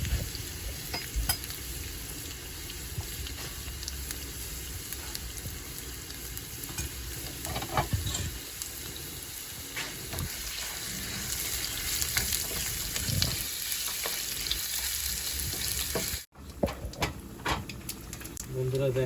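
Panch phoron, dried red chilli, chopped ginger and garlic, and bay leaf frying and browning in oil, a steady close sizzle with stirring scrapes throughout, briefly cutting out near the end.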